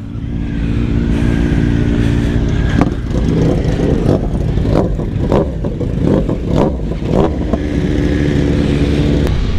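A BMW S1000RR motorcycle pulls away with a loud, steady engine roar, rising and falling through several quick revs and gear changes close by, with a rough idle at the start and end and no talking.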